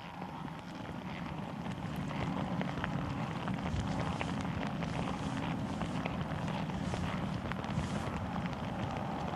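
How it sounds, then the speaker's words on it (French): Torrential rain pours at the Misano Adriatico racing circuit, a steady broadband wash of water with gusty, windy undertones throughout. "on voit que ça pleut à torrent"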